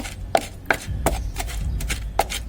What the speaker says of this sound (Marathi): त्याच्यात आता आपण त्याच्यात लसूण आणि कोथिंबीर ॲड करून घेतली आहे आणि पुन्हा छान बारीक ठेचून घ्यायचे आहे सर्व